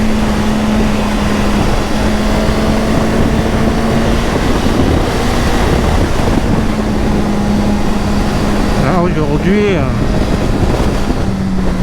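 Strong gusty wind roars and buffets right at the microphone over the steady engine hum of a 2023 Suzuki GSX-S 1000 motorcycle, with a brief spoken word near the start.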